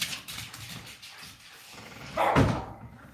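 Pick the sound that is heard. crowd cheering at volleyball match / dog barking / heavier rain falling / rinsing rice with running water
dog barking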